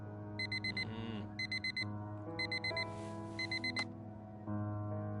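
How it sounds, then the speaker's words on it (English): An alarm clock rings in the video game Fragments of Him, sounding as bursts of rapid electronic beeps in repeated groups over a low background hum, with no talking. "Every day that alarm goes off."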